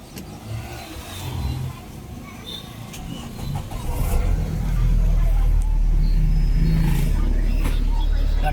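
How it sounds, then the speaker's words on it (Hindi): A car with its radiator removed and no cooling fan cranks and starts, then settles into a loud, steady idle close by, with people talking over the engine. "We are starting the car now."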